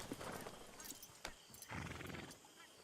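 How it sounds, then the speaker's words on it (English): A horse's hooves clip-clop in Red Dead Redemption 2, a few quiet uneven hoof knocks over soft ambient background, with a faint whinny-like tone mixed in. "Hold triangle to hitch the horse."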